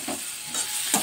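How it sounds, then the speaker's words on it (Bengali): Fried jackfruit being sautéed with spices in a pan, a soft steady sizzle with a few light scraping stirs. "এরপর ভাজা এঁচোড়টা দিয়ে একটু কষিয়ে নিতে হবে।"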